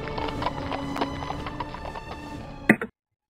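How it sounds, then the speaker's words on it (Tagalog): A horse's hooves clip-clop in a steady rhythmic trot, close and clear, ending with a sharp louder knock before falling silent. "Iginayak kapag daka, kabayong sasakyan niya."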